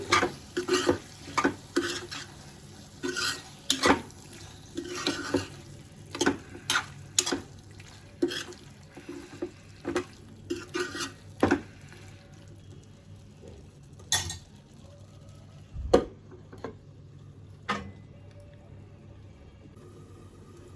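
A spoon stirs bottle gourd curry with green chillies in a pan, giving repeated scraping clinks over a soft sizzle, then the strokes thin out into a few isolated knocks as a lid goes on.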